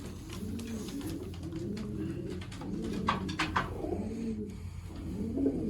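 Sialkoti pigeons coo close by in soft, repeated rolling phrases that overlap one another, with a few faint chirps and rustles mixed in at moderate loudness.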